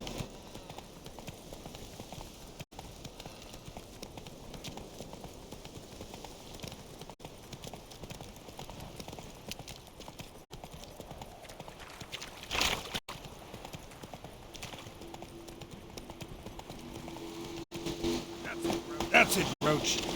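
The horse Roach gallops in The Witcher III, a fast rhythmic clatter of hooves under a voice, with a few sharper thuds and a rising tone near the end.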